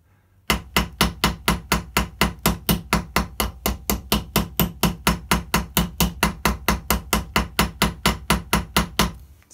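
Hammer shaping the head of a rivet on a Victorinox knife mod, a long run of sharp, evenly spaced metallic blows at a quick regular rhythm, loud and close with no talk.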